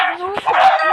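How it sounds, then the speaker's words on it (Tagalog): A cartoonish video game chicken clucks and squawks in two quick bursts, bright and close, with a brief pause between them. "Chicken! Yum."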